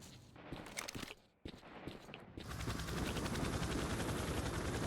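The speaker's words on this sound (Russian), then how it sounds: "Какой-то вертолет." Military helicopter in the S.T.A.L.K.E.R. video game, heard as a steady loud rotor-and-engine roar that rises and fills the second half, after earlier scattered gunfire-like bursts and footsteps.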